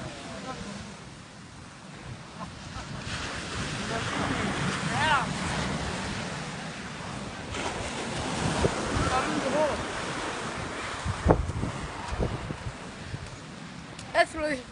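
Ocean surf washes steadily onto a beach while wind buffets the microphone, a continuous rushing roar with a few louder gusts and splashes, and distant voices faintly underneath.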